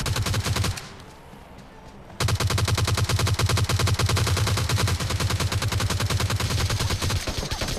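Gunfire from a PUBG Mobile Lite hot-drop fight: loud, rapid automatic bursts, a brief lull, then long continuous strings of close shots to the end.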